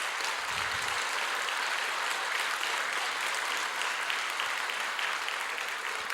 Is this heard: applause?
yes